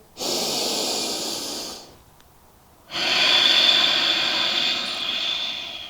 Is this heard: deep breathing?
yes